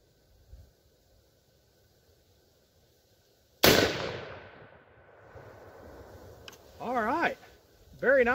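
A single rifle shot fired through an Element Optics Helix HDLR 2-16x50 scope at a shooting range: one sharp, loud crack midway with a ringing decay, followed by someone speaking briefly nearby.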